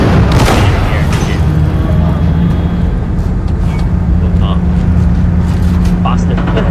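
Explosions from a bomb and grenade in a video game, a loud booming blast at the start followed by rumbling noise, heard under continuous shouting and talk.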